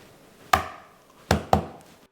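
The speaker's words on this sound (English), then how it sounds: "we are going to smash and mince the garlic" Garlic being smashed and minced with a knife on a cutting board: three sharp, close knife strikes, one then a pause and two more in quick succession, each ringing briefly before fading.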